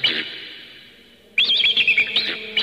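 Bright, high bird chirps, a short burst followed by a quick series of rapid tweets, close and clear with no other sounds.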